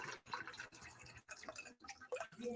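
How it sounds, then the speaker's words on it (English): A shaken cocktail is strained into a glass: quiet, close dribbling and splashing of liquid comes in several short bursts broken by brief pauses. "And you're going to strain it to your glass."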